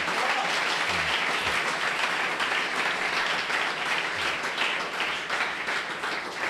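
A church congregation applauds during a French-language sermon, steady dense clapping filling the room continuously from start to finish, loud and close throughout.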